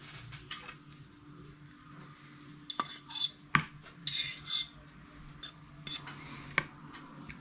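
Utensil clinks and scrapes against a salad bowl while grated cheese is mixed with thick cream, a handful of sharp close taps over a quiet kitchen background.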